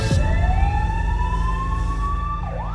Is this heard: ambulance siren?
yes